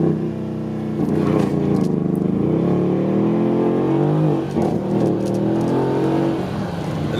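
A Mercedes-AMG engine revs hard during a launch-control race start, holding a loud, steady high-rev drone before surging and pulling away up through the revs, close and with no talking.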